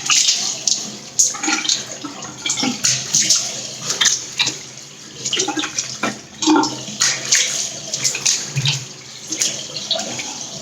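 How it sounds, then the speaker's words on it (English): Cold water runs from a tap into a sink during a quick safety-razor shave with Gillette foam, with an irregular splashing flow and close, sharp bursts as hands scoop and splash water. "And we'll just apply some cold water again."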